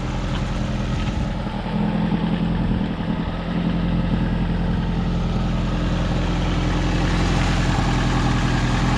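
A Fiat Uno with a 1.0 petrol engine idles steadily without choke, giving a constant low rumble at an even, unchanging level, close by with no talk.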